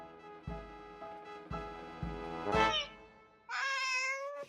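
A cat gives a few soft, short meows, followed by a louder, longer drawn-out meow at the end, close by and alone with no talking.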